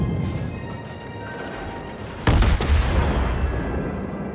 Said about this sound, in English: it really is lovely to be firing broadsides at a target who is not paying attention to you at all